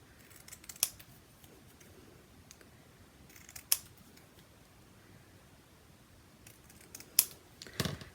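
Scissors trimming a paper page for a handmade notebook, three crisp isolated snips spaced a few seconds apart, close and fairly quiet over a faint background hiss, with no talking.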